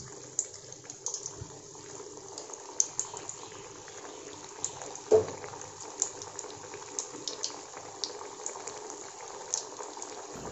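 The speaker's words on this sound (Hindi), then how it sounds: "ये देखिए तेल हमारा गरम है, हम इसमें धीरे से डालेंगे" Bread vada dough being fried in hot oil, giving a steady bubbling sizzle with scattered soft pops and crackles throughout, close and moderately quiet, with no talking.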